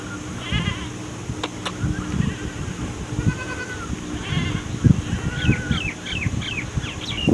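Goats bleating in a field in the afternoon, several short wavering calls from more than one animal at moderate distance, with a faint bird call and light ambient noise around them.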